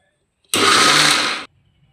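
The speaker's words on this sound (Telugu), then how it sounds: "దీన్ని ఇప్పుడు మిక్సీ పట్టుకుందాం" Mixer grinder whirring as it grinds soaked urad dal with water for ragi idli batter, one loud steady burst of about a second that starts and cuts off abruptly, with no talk over it.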